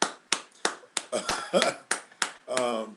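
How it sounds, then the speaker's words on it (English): One person claps about ten times in an uneven rhythm, each clap sharp and close, with a voice speaking briefly between the claps. "I actually want you to hear my clap"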